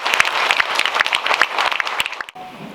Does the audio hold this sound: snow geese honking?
no